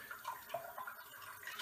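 A wet shaving brush is rinsed clean of soap under a running tap, a faint continuous trickle of water with small splashy flickers, heard alone.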